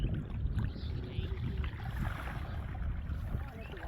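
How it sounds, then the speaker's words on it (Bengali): A boat approaching on the Brahmaputra river, a steady rumbling low wash of water and hull noise with wind across the microphone, continuous and fairly close throughout. "এই যে নৌকা আসতেছে"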